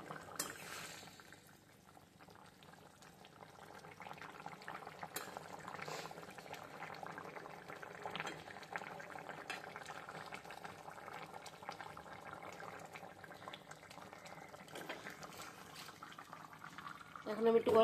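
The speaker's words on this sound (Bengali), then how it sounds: "এখন আমি মাছটা দিয়ে কিছুক্ষণ ফুটিয়ে নিয়েছি।" Fish curry with beans, potato and tomato simmers in a pot, a steady soft bubbling hiss lasting the whole stretch at low to moderate level, with faint utensil touches near the end.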